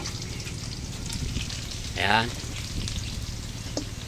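Pieces of boiled pork fry lightly in a pan for a Filipino tokwa't baboy dish, giving a steady, even sizzle throughout. A short spoken word cuts in near the middle.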